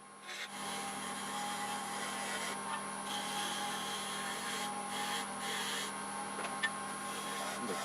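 A wood-turned cremation urn spinning on a lathe while being smoothed, giving a steady close whirring hum with a soft continuous rubbing hiss and a few brief swells, with no talk.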